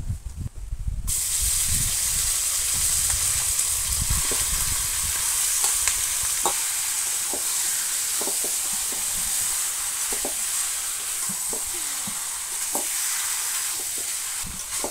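Marinated desi chicken dropped into a pan of hot oil with whole cumin, whole garam masala and dried chillies, breaking into a loud, continuous close sizzle with scattered crackles and pops throughout.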